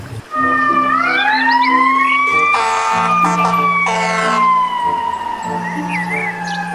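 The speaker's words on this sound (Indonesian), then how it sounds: "Mobil pemadam kebakaran." A toy fire truck siren wails loudly and steadily, its pitch rising and falling in a repeating electronic cycle with bursts of harsher tone, heard alone without talk.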